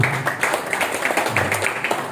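Audience applause at a seminar, steady crowd clapping in a continuous patter at moderate level, with a low voice briefly audible underneath.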